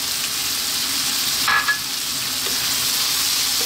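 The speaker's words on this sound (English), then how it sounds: "We're now going to drop in our garlic and our mushrooms." Finely chopped garlic and mushrooms fry with bacon in a pan over high heat, a dense steady sizzle with a brief clink near the middle, no talking.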